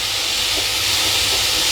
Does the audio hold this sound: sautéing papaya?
yes